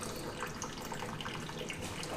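Water gushing heavily from a leak into a flooded living room, a dense continuous splashing rush at moderate level with no pauses.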